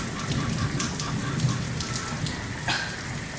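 Heavy rain pours steadily and loudly, a dense continuous hiss of drops drumming on surfaces, with a brief louder gust or splash near the end.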